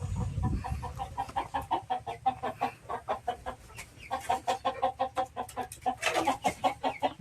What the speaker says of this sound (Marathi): इकडे सगळे कोंबडे आहेत.